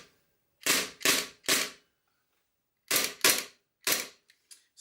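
Umarex gas blowback Glock airsoft pistol firing, with three sharp cracks, a pause, then three more and fainter mechanical clicks, each shot crisp, close and loud in an otherwise quiet room.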